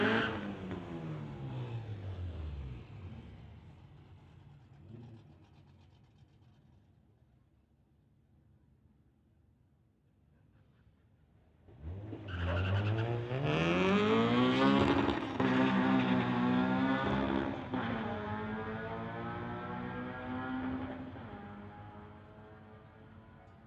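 A Honda and a Chevrolet Silverado drag race down a street-legal strip. Loud engines rev hard and fade through the first seconds, a quiet gap follows, then a close, roaring run of climbing revs and gear changes fills the rest.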